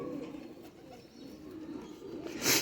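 Pigeons coo softly in a loft, a pair of barred cross-bred birds being shown for sale; low, continuous throaty cooing at moderate distance, a brief brighter rustle near the end, no talk.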